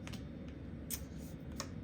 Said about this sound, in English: This deck is harder to shuffle.